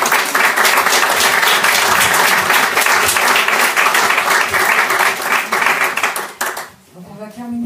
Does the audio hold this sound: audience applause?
yes